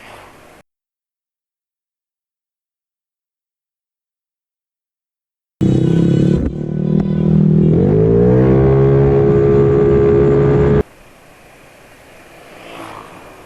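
Yamaha Aerox scooter engine revs hard, loud and close, its pitch climbing steadily through a sustained run of about five seconds after a stretch of silence, then dropping back to a low idle.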